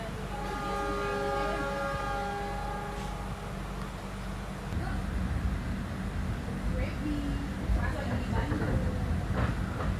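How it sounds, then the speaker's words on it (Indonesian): Argo Cheribon executive-class passenger train running, a steady low rumble with tonal hum in the first half that gives way to louder, rougher rolling noise partway through, continuous and close. "kereta api Argo Cirebon ini diberangkatkan menuju stasiun akhir Jakarta Gambir"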